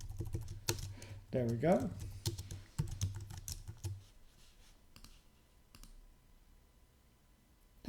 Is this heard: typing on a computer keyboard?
yes